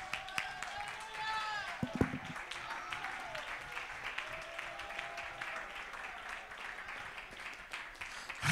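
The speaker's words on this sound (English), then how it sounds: "leap to your feet and lift your voice and clap your hands" Church congregation clapping hands during worship, a steady crowd patter running under music and voices throughout, moderately loud with a few sharper claps standing out.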